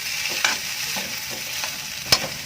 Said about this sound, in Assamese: অকণমান চব্জি মছলা দিলে এটা ভালদৰে লৰাই দিম।